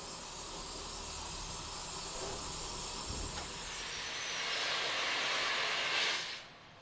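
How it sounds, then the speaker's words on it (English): A BR Standard Class 5 steam locomotive hauling a nine-coach train restarts on a curved 1 in 100 gradient, giving a continuous loud broadband steam hiss that swells near the end before cutting off sharply. "Here, a standard Class 5 is restarting its 9-coach train on a 1 in 100 gradient and on a curve"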